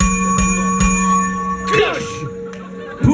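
Bell struck to open a two-minute round at a samba percussion battle festival, a few clear ringing tones with a sustained pitched resonance, followed by a fuller crash of sound as someone talks over it.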